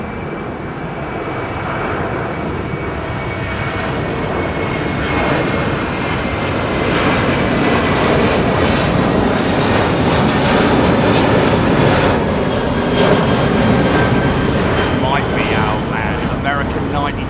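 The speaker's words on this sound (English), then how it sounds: "Big lumbering undercarriage on the 330." An Airbus A330 airliner passes at London Heathrow Airport, its broad engine roar loud and swelling toward the middle before easing slightly, with a voice talking over it.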